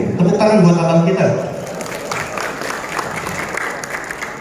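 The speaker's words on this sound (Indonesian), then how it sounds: "tepuk tangan buat abang kita" An audience at a motivational gathering for farmers in Bogor breaks into loud applause, a dense wash of clapping that starts under a speaking voice and then carries on alone at a steady level.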